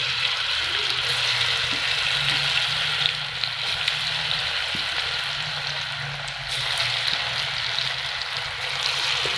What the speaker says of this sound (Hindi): मैंने इसमें 1 अदद आलू काट लिया है और उसको मसाला लगा के इसको भी फ्राई कर लूँगी।